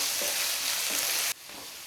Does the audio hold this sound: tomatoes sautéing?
yes